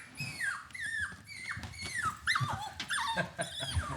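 Dogs growl and whimper close by, with high, wavering whines over low rumbling growls in short, overlapping bursts.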